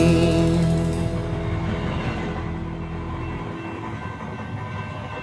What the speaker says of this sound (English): Choo-choo, here comes a train.